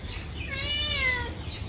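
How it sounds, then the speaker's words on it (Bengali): A village house cat gives a single drawn-out meow lasting under a second, close by and clear over a quiet background hum. "আর এই যে আমাগো বিলাই ম্যাও ম্যাও ম্যাও ম্যাও"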